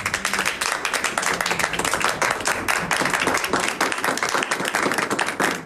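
Hospital staff and visitors break into sustained applause, a dense steady patter of many hands clapping at once, close and lively, with a few voices faintly mixed in.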